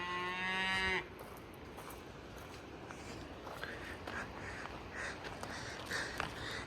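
Cattle being herded along in the evening give one long, loud, close moo at the start, followed by a quieter stretch of hoof and outdoor movement noise with faint calls in the distance.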